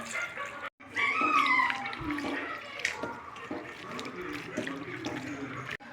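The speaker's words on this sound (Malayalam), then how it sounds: "വെള്ളം ഒഴിച്ചൊന്ന് കഴുകാവേ" Water pouring and splashing into a bowl as food is rinsed by hand in a kitchen, a steady running wash for several seconds with small clinks and one brief gap.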